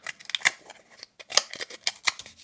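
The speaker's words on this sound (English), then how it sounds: "So cutting some cardboard if you have to in a pinch." Scissors on a Nextool K30 multitool cut through cardboard in a series of sharp, crisp snips with quick irregular rhythm and a short pause midway, close and clear with no voices.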